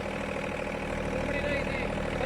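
A tractor engine runs at a steady, even drone in a field during pigeon pea sowing, close and continuous, with voices talking faintly over it.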